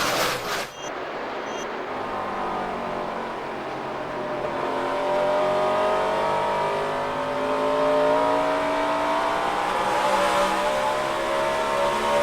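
NASCAR Nextel Cup stock cars roaring up to speed on a green-flag restart at the 2007 Lenox Industrial Tools 300, a loud continuous engine drone that rises and swells as the pack accelerates, with no voices.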